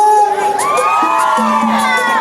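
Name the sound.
crowd cheering and shouting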